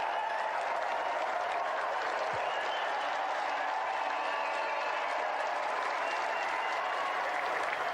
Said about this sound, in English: A round of applause, please, for John Morrison and the Sega champion, Da